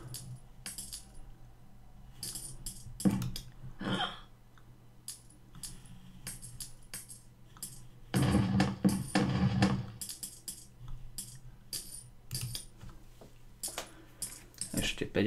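Coins are collected in the CodeCombat video game with short, bright metallic clinks in scattered bursts, a dense cluster in the middle, and quieter gaps between.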